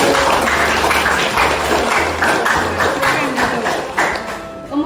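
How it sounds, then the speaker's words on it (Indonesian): A school class of students applauding together in a classroom, a dense burst of clapping that carries on for several seconds, close and loud. "Terima kasih, tepuk tangan."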